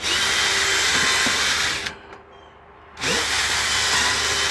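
A power drill bores a pilot hole into a storm door jamb during a Larson Tradewinds storm door installation, a loud steady whine that drops off briefly for about a second and then resumes at full strength.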